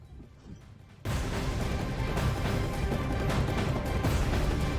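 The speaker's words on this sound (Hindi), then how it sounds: "जबरदस्त धमाका और रूस का हमला" A sudden loud explosion from a Russian attack in Ukraine hits after a quiet second, then a dense, sustained roar and rumble continues steadily to the end.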